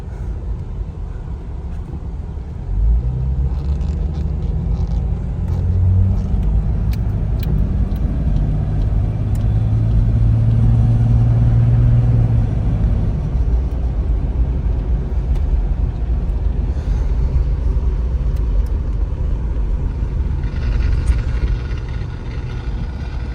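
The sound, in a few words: 1987 Jeep Cherokee XJ Wagoneer driving in four-wheel drive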